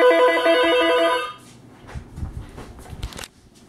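A single desk phone on an office phone system gives a loud electronic ring that cuts off after about a second, followed by faint handling clatter and bumps nearby.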